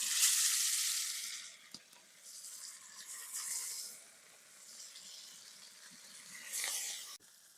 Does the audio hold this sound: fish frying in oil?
yes